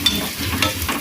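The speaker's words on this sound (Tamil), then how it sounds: "ஒரு கடாயில் எண்ணெய் ஊற்றி எண்ணெய் சூடானோன்னா வெங்காயம் போட்டு வதக்கிக்கலாம்." Onions sauté in hot oil in a kadai, giving a loud, close sizzle with quick stirring scrapes and a couple of sharper clinks within a second, with no talk.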